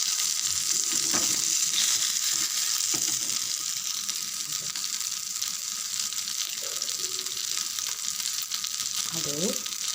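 Thirukkai stingray fish pieces frying in hot oil: loud, continuous crackling sizzle up close, with a few brief scraping and clinking touches from a utensil.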